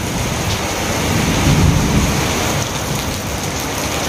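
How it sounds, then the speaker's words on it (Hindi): Rain falls heavily outdoors with a dense, steady hiss, and a low rumble of thunder swells in the middle, loud and close. "ये देखिए बारिश दे रहा है, बहुत ही खूबसूरत मौसम है।"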